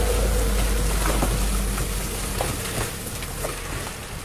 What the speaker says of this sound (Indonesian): Ya, tabungnya berhasil berputar.